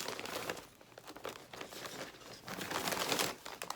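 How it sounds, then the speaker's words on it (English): Fabric of an embroidered kids shirt being popped and pulled out of an embroidery hoop, with close, soft crinkling and rustling that comes in uneven bursts and swells toward the end. "So now what I'm gonna do, I'm gonna pop it out of the hoop."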